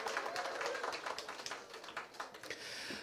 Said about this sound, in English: Give Micah a round of applause,